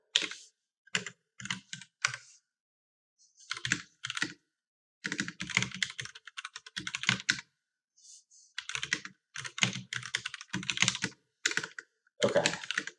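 Bursts of clattery typing on a computer keyboard during a coding puzzle session, quick runs of keystrokes separated by short pauses, close and fairly loud with no talk.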